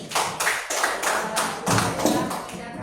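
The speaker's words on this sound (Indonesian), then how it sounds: "tepuk tangan buat Rizka" A classroom of students claps for a classmate, with loud, close handclaps that come in several rhythmic bursts of quick taps, followed by a brief lull and then more clapping that gradually thins out.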